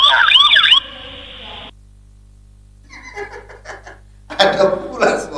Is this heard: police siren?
yes